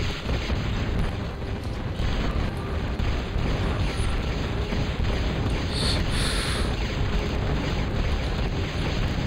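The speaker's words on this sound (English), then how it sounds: "we're attacking his resources, blow up his aircraft plant" Continuous roaring rumble of explosions and blasts as an aircraft plant is destroyed in the real-time strategy game Total Annihilation, loud and sustained with a dense low-end boom throughout.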